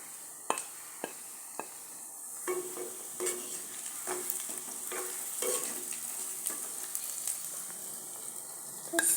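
Bread kothu with chilli powder is stirred and fried in a pan, a soft continuous sizzle broken by sharp scraping and tapping strokes of the spatula at irregular intervals.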